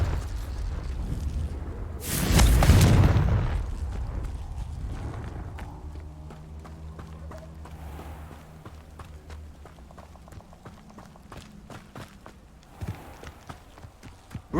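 The Confringo blasting spell in Hogwarts Legacy lands as one loud, close explosion with a deep rumbling burst. Quieter footsteps and scattered clicks and thuds follow.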